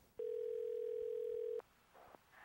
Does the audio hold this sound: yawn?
no